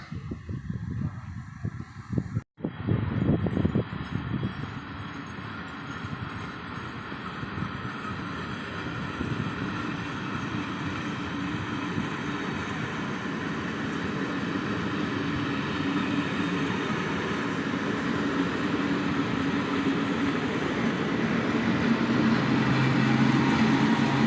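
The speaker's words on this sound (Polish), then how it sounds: "No i odjechał właśnie tutaj skład." A train pulls out of the station at Hajdúszoboszló, Hungary, on the Szolnok–Nyíregyháza service: a steady, broad rumble that builds gradually, with a brief sharp knock near the start and no talking.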